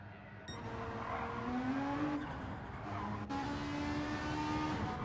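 Citroen racing car in a racing video game, its engine revving in rising pitch sweeps with gear changes, fairly quiet and steady with no talk.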